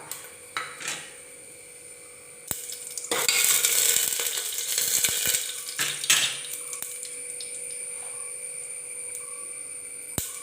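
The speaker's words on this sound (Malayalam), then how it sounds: "പെരിഞ്ചീരകം ഇട്ട് കൊടുത്തൊന്ന് പൊട്ടിച്ചെടുക്കണം" Fennel seeds with a piece of cinnamon, cloves and cardamom splutter and crackle in hot oil for an egg curry, a steady bright sizzle with louder bursts as the spices are stirred in the pan.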